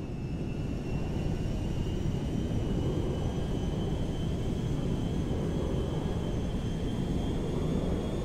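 Merryweather cargo jet cruising in GTA V, a steady, loud low engine roar with faint high whining tones, continuous and unbroken throughout.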